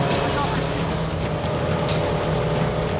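A speedboat engine roars steadily at about 70 km/h on a river in Laos, a loud continuous drone mixed with wind and water rush.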